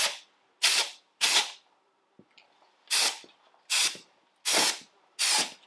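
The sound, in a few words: spraying brake cleaner on a tractor pulley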